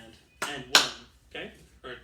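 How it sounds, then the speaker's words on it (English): Sharp hand claps struck in a rhythm exercise, four distinct hits spaced unevenly across two seconds, fairly close and moderately loud, with no voices between them. "So this is the rhythm that I want you guys to clap with me"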